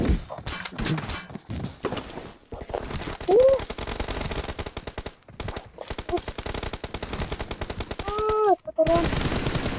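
Rapid automatic gunfire in PUBG Mobile, bursts of loud, fast-repeating shots broken by short pauses, with brief voice snippets over the shooting.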